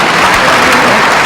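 Applause from the audience at a farm innovation dialogue event in Bhopal, a dense, loud, continuous clatter of clapping with no voices over it.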